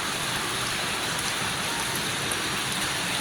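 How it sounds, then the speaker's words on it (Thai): Steady, dense rain falls evenly with no gusts, a continuous soft hiss of drops close by on surfaces, with no voices. "คือฝนตกแบบแช่แบบไม่มีลมนะฝนตกแบบ สบายๆอ่ะ"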